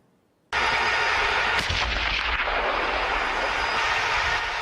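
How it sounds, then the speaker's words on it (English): Tank gunfire during a U.S. military training exercise in Poland: a loud, heavy rumbling barrage begins abruptly and continues densely throughout, with a sharp blast partway in and no voices. "U.S. Tanks Fire Rounds in Poland"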